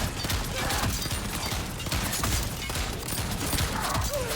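A shotgun fires repeatedly in a Sega video game, the shots landing as quick, sharp bangs inside a dense, continuous wash of loud game noise.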